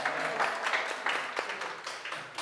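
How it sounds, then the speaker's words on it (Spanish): Spanish-speaking attendees at a business creativity conference applaud a participant's drawing, a moderate, steady crowd clapping that thins slightly toward the end. "Un aplauso."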